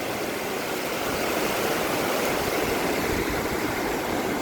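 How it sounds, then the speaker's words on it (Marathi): Rushing snowmelt stream in Betaab Valley, Kashmir: a steady, loud, unbroken wash of flowing water fills the whole stretch with no voices. "एवढं शुद्ध पाणी, पूर्ण बर्फाचं पाणी आहे"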